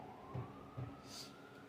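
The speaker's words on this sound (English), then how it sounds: "We got ambulances." An ambulance siren out on the street, faint and distant, its wailing tone rising and falling briefly under low background rumble.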